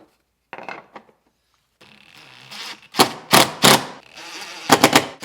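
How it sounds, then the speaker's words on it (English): Drill boring a pilot hole with a 1/8 inch bit while installing a flip glass windshield on a Can-Am Defender: a short whir, then several loud, close bursts of grinding and rasping as the bit bites in. "it tells us to take an 1/8 inch drill bit, drill a pilot hole there"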